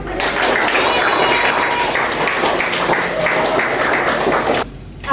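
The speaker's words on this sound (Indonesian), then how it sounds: "Tepuk tangan" Listeners at a drama studies class break into applause, a busy spell of clapping that runs steadily for several seconds and then cuts off abruptly near the end.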